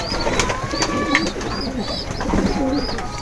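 Stock breeder pigeons cooing in their loft, repeated soft throaty coos from several birds overlapping close by, with occasional faint chirps and wing or movement noises in the background.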